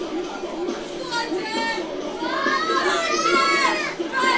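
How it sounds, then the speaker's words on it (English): Friends, family and a young fan club shout encouragement for a lifter at a Scottish masters weightlifting championship, with overlapping excited voices, many high and childlike, growing louder toward the end. "Friends and family all shouting for Jim."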